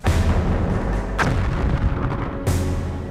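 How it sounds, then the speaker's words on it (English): A World War I artillery barrage opening at dawn against German lines, heavy booms and rolling gunfire filling the air in a dense, continuous roar with two sharper nearby blasts standing out. "That's our artillery, trying to soften up the Germans."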